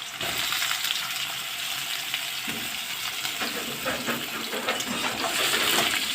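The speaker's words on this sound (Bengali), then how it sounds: "কেটে রাখা আলুগুলো দিয়ে দিলাম এবার আলুগুলো আমি একটু ভেজে নেব" Cut potatoes fry in hot oil, a dense continuous crackling sizzle that stays loud and even throughout, with faint stirring beneath.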